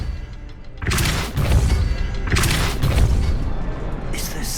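Depulso force spell cast in a Harry Potter video game, heard as three loud, broad whooshing booms about a second and a half apart over a steady ambient background.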